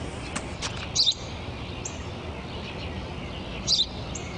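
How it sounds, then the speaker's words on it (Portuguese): A sparrow chirps twice, short and high-pitched, in two quick bright bursts a few seconds apart over a steady background hiss. "Já expliquei várias vezes que é um pardal."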